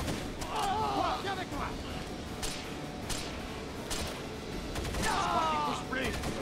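Gunfire in the video game Rainbow Six Vegas 2 during a co-op match, with bursts of rapid shots and sharp cracks over a dense noisy game background and players talking over it.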